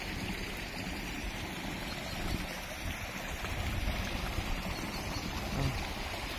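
Flowing stream water in Megève, France, a steady broadband rush heard close and continuous, with no talk over it.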